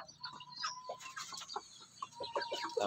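Native chickens kept in an enclosure on a small backyard farm cluck and murmur close by, a scattering of short soft clucks and a few sharper calls in an irregular rhythm, with no talking.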